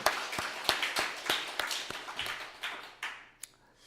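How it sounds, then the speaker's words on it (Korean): A church congregation claps in thanks, sharp separate hand claps in a loose rhythm that thin out and fade over a few seconds, with no talking. "우리 감사의 박수를 한번 올려드립시다."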